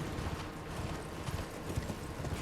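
Rapid clip-clop of horse hooves galloping in Elden Ring, a steady rhythmic drumming of hoofbeats, fairly quiet, with no speech.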